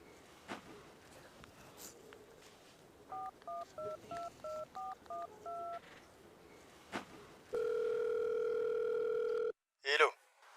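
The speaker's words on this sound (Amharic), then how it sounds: "በዚች ስልክ ደውለሽ ብታገናኝ" A telephone number is keyed in as a quick run of about nine short, evenly spaced dialing beeps, followed by a long steady ringback tone and then a brief burst of noise from the line.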